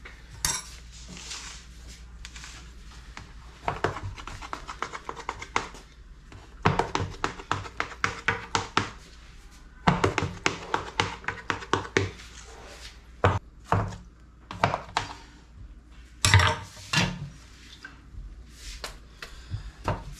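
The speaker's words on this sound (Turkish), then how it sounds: "Evet şimdi isteğe göre küçük veya büyük dilebileceğiz." A knife cuts water börek into pieces in a metal baking tray, giving irregular bursts of sharp taps and scraping clinks against the pan, loud and close, with short pauses between runs of cuts.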